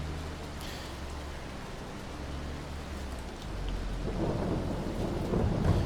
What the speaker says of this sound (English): Still raining.